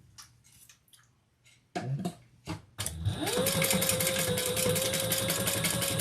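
A sewing machine stitches together the fabric pieces of a Monroe handbag, starting with a few short bursts and then running in a steady, close, continuous hum.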